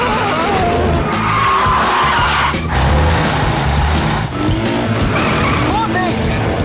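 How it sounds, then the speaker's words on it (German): An animated vehicle in a children's cartoon revs and speeds off in a loud chase, its tires squealing through repeated skids, backed by busy music and excited voices talking over it. "Ryder verfolgt uns! Los, gib Gas!"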